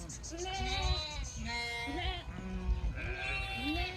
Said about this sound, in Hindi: ये मैं बताता चलो कि ये जितने भी भेड़े हैं ना, ये आप चेक करें